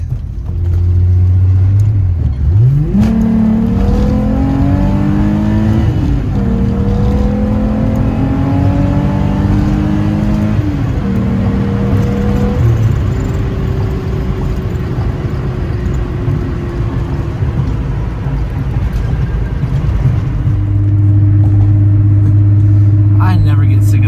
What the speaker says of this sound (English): Sound of this engine, seriously.